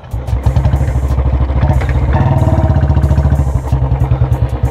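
A Royal Enfield Bullet motorcycle engine thumps loudly and close, its rapid, steady beat rising as the throttle is opened, with faint voices in the background.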